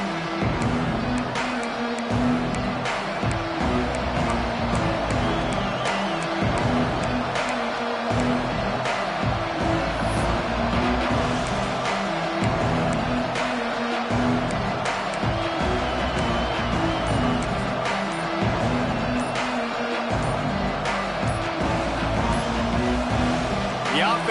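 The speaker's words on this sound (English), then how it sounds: "let's also trust this home field advantage and the crowd to get loud" A loud home crowd roars at an LSU football game against Illinois, a steady, dense wall of cheering and stadium noise that holds for the whole stretch, with talk running underneath.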